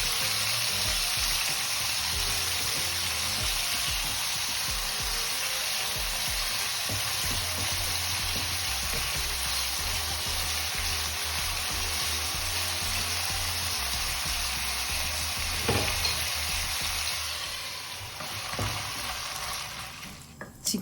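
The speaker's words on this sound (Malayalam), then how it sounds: "ഓയിൽ ഒഴിച്ചെടുത്തിട്ട് ചിക്കൻ നന്നായിട്ട് കുക്ക് ചെയ്തെടുക്കാം." Chicken pieces fry in hot oil in a pan for a Malappuram-style chicken fried rice, a steady loud sizzle with occasional stirring scrapes, continuous throughout and easing slightly near the end, with no talk.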